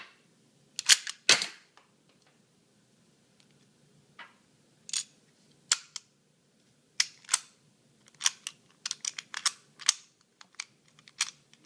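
Dummy rounds eject from a DL-44 blaster replica in a string of sharp, close plastic-and-metal clicks and clacks, irregular and spaced over several seconds, with quiet handling noise between them and no talking.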